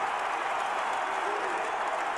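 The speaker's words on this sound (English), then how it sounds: "Crowd back in it." Crowd at a Kentucky vs Evansville college basketball game cheering after a drive to the rim, a steady, fairly distant roar of voices and applause filling the arena.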